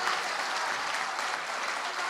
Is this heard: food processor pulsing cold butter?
no